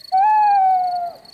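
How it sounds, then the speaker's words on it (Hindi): A single long, clear owl hoot in a cartoon camping scene at night, a smooth sustained tonal call that sounds close and loud and fades off after about a second, with no talking over it. "वो उल्लू है, देखो वहाँ पर।"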